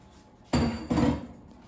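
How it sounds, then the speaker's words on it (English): Two quick, loud bursts of marinated beef hitting a hot frying pan, the second sizzling a little longer before fading to quiet. "I'm just going to put beef with the marinade on a frying pan"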